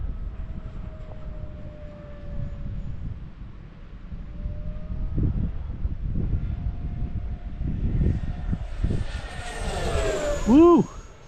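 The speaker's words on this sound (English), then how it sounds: "I took the run cams off the plane this time, so it's flying a little cleaner." An RC F-22 model jet flies in gusty wind, its engine whine steady and moderately near with a rising pitch sweep near the end; wind rumble and a voice are heard underneath.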